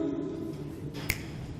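A single crisp finger snap rings out once, sharp and close, against a quiet room hum with no talking.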